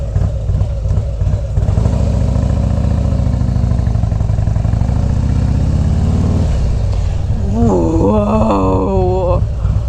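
Upgraded motorcycle engine running close and loud, a deep loping idle that swells into a revving climb, then drops back with rapid rising and falling revs near the end.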